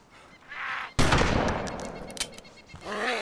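Gunfire erupts in DayZ during a zombie invasion: a sudden loud burst of shots, then rapid crackling fire that fades, with a few later cracks.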